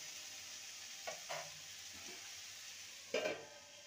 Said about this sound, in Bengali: আলু দিয়ে ভালো করে নেড়ে নেব